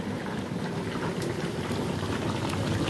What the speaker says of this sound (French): Et là, ça bouille en avant, mais ça bouille pas extrêmement fort.